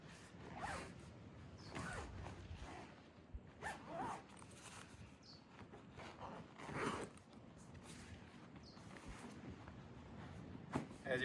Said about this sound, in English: Just some final zippers, which I will show you.